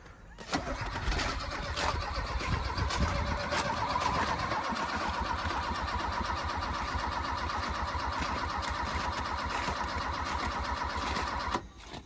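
A car engine cranks in minus ten degree cold, catches and settles into a steady, loud idle with a rapid, even rhythm that runs almost to the end of the clip.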